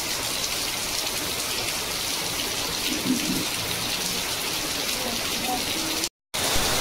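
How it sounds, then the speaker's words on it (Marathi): Heavy rain pours down steadily outside a home kitchen where peanuts are being roasted, forming a continuous dense hiss that cuts out for a moment near the end. "धागे एवढा पाऊस पडतोय।"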